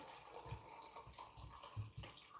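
Warm water pours and splashes steadily into a baking container, a soft continuous trickle with a few gurgling bursts, fairly quiet and close.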